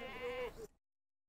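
A single sheep bleats close by, a wavering, tonal call lasting under a second before cutting to silence, with no other voices.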